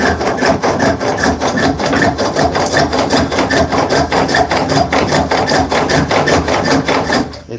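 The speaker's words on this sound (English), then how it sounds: "But I like using this rasp" A rasp rounds soft wood spinning on a spring pole lathe, loud close rhythmic scraping strokes repeating about three times a second in an even back-and-forth pattern, stopping at the end.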